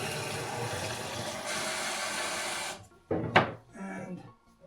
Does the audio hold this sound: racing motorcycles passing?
no